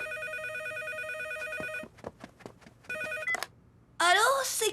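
A telephone rings with repeated electronic trilling bursts, broken by a short pause and a clattering handset, before a voice speaks over the end.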